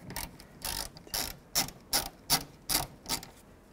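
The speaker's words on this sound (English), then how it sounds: "I'm going to use a T30 socket." Ratchet fitted with a T30 socket loosening bolts on a 2011-2014 Chrysler 200 door latch assembly: about eight rhythmic bursts of close, crisp ratcheting clicks, evenly spaced and alone.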